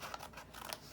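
Scissors snip paper for a flip-out coin envelope in a journal, giving a quick close cutting sound with a couple of soft snips within about a second.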